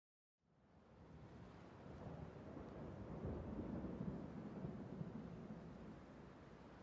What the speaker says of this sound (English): that sounds like thunder